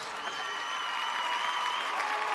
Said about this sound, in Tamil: கைத்தட்டு கொடுங்க.